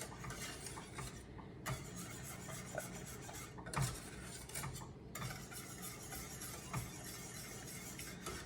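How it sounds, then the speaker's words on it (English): A spoon or whisk stirs pecan pie filling thickened with cornstarch in a pot, giving a steady, continuous scraping and rubbing sound close by, with occasional louder scrapes against the pan. "Now you want to make sure you stir this constantly."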